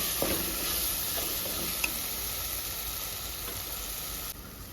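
Masala fries in a pan for a small-fish curry, a steady close sizzle and hiss with a couple of light spatula taps.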